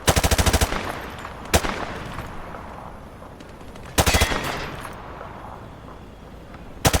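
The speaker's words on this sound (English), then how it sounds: "Turn around and fire at the targets." Rapid bursts of automatic gunfire from a weapon fired from the hip in a video game: a loud burst at the start, a single shot, another burst near four seconds and a final short burst at the end, with quiet gaps between.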